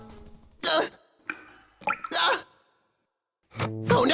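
A cartoon faucet gives a few irregular, wet drips and plops close up, separated by short silences, with a voice rising near the end.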